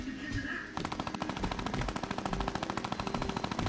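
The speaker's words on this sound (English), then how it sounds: "is that the new gun?" A new automatic weapon in Fortnite fires a rapid burst of evenly spaced gunshots, loud and continuous for about three seconds after a short quieter start.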